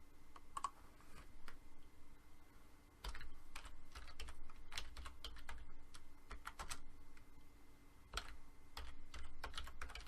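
Rapid keystrokes on a computer keyboard as a folder name is typed over, a quick irregular patter of crisp, close clicks in short bursts with brief pauses, no voices.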